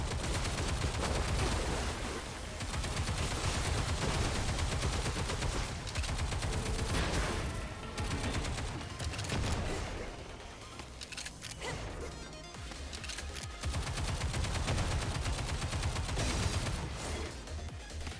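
Gunfire in the video game Stellar Blade: loud, dense, nearly continuous rapid shots and crashing impacts that keep going with only brief dips for about eighteen seconds.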